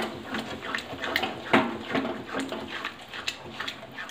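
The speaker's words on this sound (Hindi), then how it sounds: "now it's time to put water on it" Water splashes and patters as it is poured into a pan of mushroom, paneer and peas curry, an irregular close-up trickle with small bursts, no talking.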